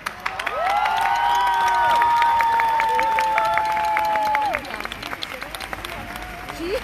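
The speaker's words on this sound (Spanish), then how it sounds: "Un fuerte aplauso." Crowd at an outdoor global climate march applauds and cheers, with a whistle-like tone and raised voices riding over steady clapping for several seconds before it thins out into scattered sounds.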